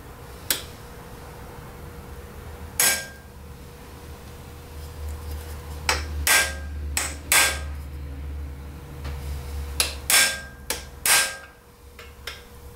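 A hammer taps dimples into aluminum, sharp metallic strikes scattered irregularly, some single and some in quick pairs, over a low background hum in a quiet workshop.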